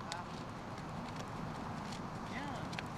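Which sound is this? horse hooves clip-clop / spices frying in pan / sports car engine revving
horse hooves clip-clop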